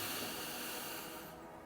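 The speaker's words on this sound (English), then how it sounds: "Long exhalation into that deep stretch." A long, slow exhalation during a deep stretch in a short ankle, knee and hip mobility routine, a soft steady breathy hiss heard up close and alone that fades out at the end.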